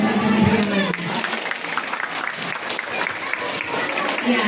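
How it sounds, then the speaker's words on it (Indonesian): An audience at an elementary school sixth-grade farewell ceremony claps steadily throughout, with an announcer's voice talking over the applause. "Sekali lagi mohon aplaus yang lebih meriah lagi."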